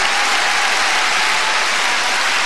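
Audience applause at a 1973 gala concert in a London festival hall, a loud, continuous roar of many hands clapping at once, filling the space evenly from start to finish.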